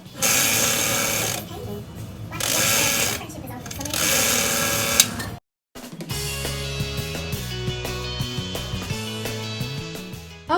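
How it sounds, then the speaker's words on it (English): A sewing machine stitches horsehair braid into fabric in loud rapid bursts of mechanical chatter, pausing between runs, then running on with a rattling rhythm while music plays underneath. "I am done sewing in the horsehair"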